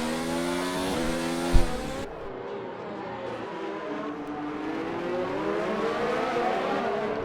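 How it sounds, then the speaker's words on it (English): Williams and McLaren race cars lapping Monaco in a racing video game, engines whining and shifting pitch continuously with a brief thud, the tone rising and sweeping as the cars pass, loud and steady throughout without talk. "Mechanical Sack and Swifty at the back here in the Williams and the McLaren."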